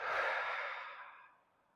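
Slow breathing during an exercise routine: one long, soft airy exhale that starts close and fades gradually to silence.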